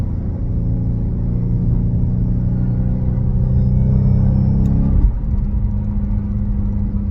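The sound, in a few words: Dodge Hellcat supercharger whine on the highway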